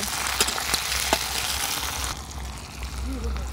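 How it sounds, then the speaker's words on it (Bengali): Chopped onion and tomato hit a hot pan with a broad, bright sizzle that drops off partway through, leaving a softer bubbling fry with a brief voice-like murmur near the end. "পেঁয়াজের কুচি, এর সাথে দিয়ে দেব টমেটো কুচি। খুব ভালো করে ভেজে নেব।"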